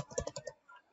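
A short quick burst of several keystrokes on a computer keyboard, close and crisp, followed by a brief pause and one faint final tap.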